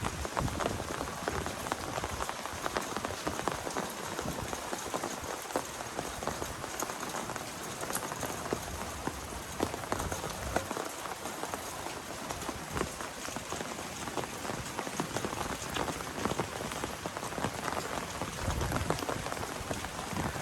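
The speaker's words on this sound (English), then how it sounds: "You don't often get to see rain." Steady rain pours outdoors at night, a dense continuous hiss of drops pattering on surfaces with no letup, close and even throughout.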